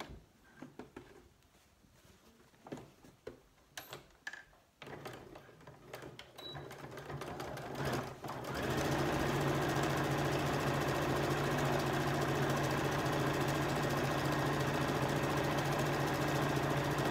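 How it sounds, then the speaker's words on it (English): A sewing machine stitches close to the folded edge of a cushion cover piece. Quiet handling clicks and rustles come first, then the motor starts up into a loud, continuous whirring hum that runs to the end. "I'm going to sew again close to the folded edge of this piece."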